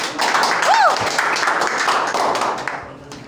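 Indoor audience at a business plan presentation clapping loudly to welcome a presenter, a dense burst of applause that gradually thins and fades, with voices mixed in.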